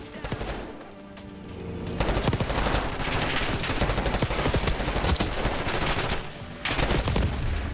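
Rapid bursts of gunfire in Call of Duty: Black Ops 6 crackle almost nonstop, loud and close, with a short lull before the shooting picks up again.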